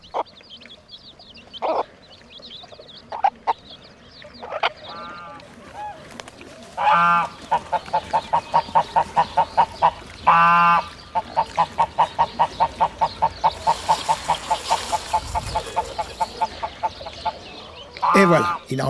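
Farm geese honking in rapid repeated bursts, loud and close, with scattered calls from other poultry, no words spoken.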